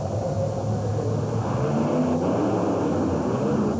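A monster truck roars at full throttle during a 1991 USHRA race run in Worcester, a loud, dense, continuous engine rumble with steady broadband noise and no voices.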